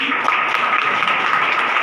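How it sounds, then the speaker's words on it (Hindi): An audience at a business motivational talk gives loud, steady applause, a dense wash of many hands clapping that fills the room throughout. "दुर्गा प्रसाद भी उनके लिए जोरदार ताली"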